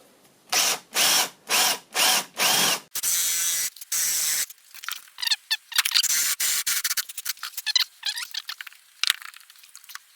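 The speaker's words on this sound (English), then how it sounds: "So this I'm going to use a spade bit." A drill with a spade bit bores holes, first in a run of five even, loud whirring bursts, then in shorter, irregular spurts and stops.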